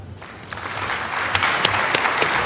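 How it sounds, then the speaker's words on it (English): Enthusiastic crowd applause for the President of Kenya, building quickly and holding steady, dense clapping from many hands filling a large room. "A round of applause for His Excellency, the President of the Republic of Kenya, William Samoei Ruto."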